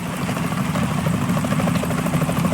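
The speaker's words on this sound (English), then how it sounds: "Is that a chopper I just heard?" Helicopter rotor chopping in the Metal Gear Solid 2 opening, a steady, loud rhythmic thump with engine drone, continuous and close throughout, with no talk over it.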